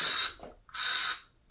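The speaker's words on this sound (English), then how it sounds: "Okay, I'm gonna spray it down." Aerosol spray hisses at a spider in two loud, close bursts, each about half a second long, with a brief gap between them.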